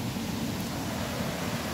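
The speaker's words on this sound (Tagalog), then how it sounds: "Narinig nyo na ba ang ingay ng tubig mga fishing?" Rushing water at Pangas Falls, a steady broadband roar of falling water, constant and fairly loud, with no voices over it.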